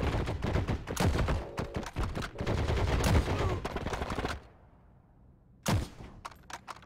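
Gunfire in the shooter game Heroes and Generals: rapid, loud bursts of shots rattle almost continuously, pause briefly, then return as a few sharp cracks near the end.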